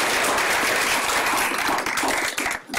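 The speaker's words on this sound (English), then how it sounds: "round of applause in advance" An audience at the Yale Innovation Summit applauds a panel, sustained dense clapping that fades out at the end.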